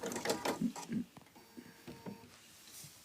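A freshly oiled sewing machine runs in short, quick mechanical bursts, then slows to softer intermittent clicks and whirs, fairly quiet and close.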